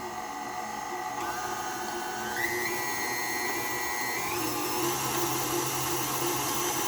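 An electric mixer on low speed mixing banana bread cheesecake batter gives a steady, continuous motor whir with a slight rise in pitch partway through, close and constant throughout.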